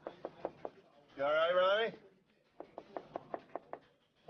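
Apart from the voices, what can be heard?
knocking on a studio door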